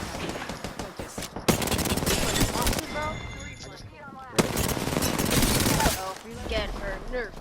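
Automatic weapon fire in the battle royale video game Apex Legends, loud rapid bursts in two main volleys with short gaps, mixed with game sound effects and a voice in the background.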